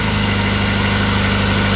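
Renault 4CV classic car engine idling, a steady low throbbing rumble with an even pulse, loud and close, unbroken and alone.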